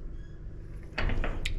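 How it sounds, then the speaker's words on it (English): An electric gate opener ram retracts with a low steady motor hum, then a louder burst of clunks and rattles as the mechanism engages. No voices are present. "when I hit the button, essentially they will open, which is the RAM will close"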